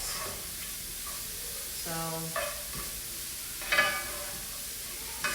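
Cauliflower fried rice sizzles softly in a pan as a utensil scrapes and stirs it in a few short bursts, with a faint word spoken.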